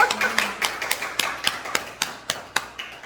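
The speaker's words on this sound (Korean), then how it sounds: "박수 한번 쳐주세요." A small church congregation claps in a sparse, uneven run of sharp individual claps, close and fairly quiet, with a voice talking briefly at the start.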